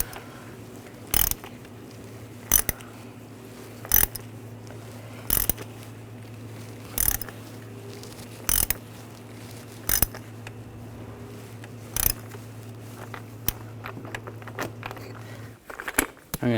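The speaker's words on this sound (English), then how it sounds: "I'm going to torque this to 42 inch-pounds." A torque wrench tightens the oil filter housing cap on a 2009-2010 BMW 535i xDrive, giving a series of sharp, evenly spaced clicks over a low steady hum, close by with no speech.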